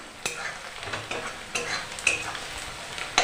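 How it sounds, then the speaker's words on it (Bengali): Onions frying until browned for biryani: a steady close sizzle punctuated by regular scraping strokes of a stirring spoon. "ব্রেস্তাটা প্রথমে ভেজে নিচ্ছি, লাল লাল করে ভেজে নেব"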